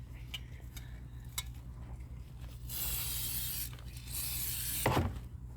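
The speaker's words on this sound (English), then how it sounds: "We'll give it a little shot of spray." A spray bottle gives quilt star blocks a couple of short hissing spritzes, close and fairly soft, amid light handling rustles and clicks.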